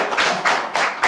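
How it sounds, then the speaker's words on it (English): A live audience at a storytelling performance claps and cheers, four dense surges of applause rolling in quick succession, close and loud, with no voice over them. "Give yourselves a round of applause."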